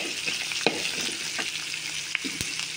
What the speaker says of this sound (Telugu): అల్లం ముక్క, పచ్చిమిర్చి కూడా. సరే ఇవన్నీ వేగుతున్నాయి